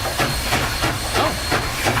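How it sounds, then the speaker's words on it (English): A recorded steam train approaching, with a steady broad hiss of steam and rhythmic pulsing chuffs, fairly loud and continuous, as if played back in a room. "the reverb makes it seem like, oh, the train's a mile away, and then it's just there."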